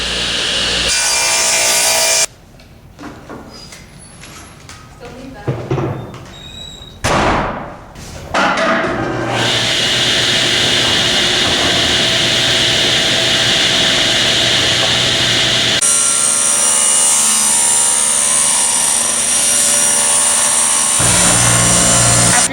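A power saw trims the edges of repurposed wood boards, cutting loudly and close by, with a break of scattered knocks and thuds partway through before the steady whine of the blade returns.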